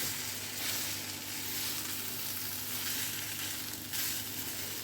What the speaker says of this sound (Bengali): এটাকে খুব ভালো করে নাড়াচাড়া করে নিতে হবে, ওপর নিচ করে